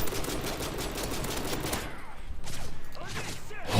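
An ACR rifle fires in Modern Warfare 3 Survival mode: rapid, dense bursts of gunfire, then a short lull followed by sparser, sharper shots.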